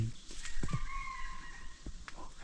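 A bird crows from up high, a drawn-out whistled call of moderate loudness over outdoor background noise, with a few dull thumps nearby.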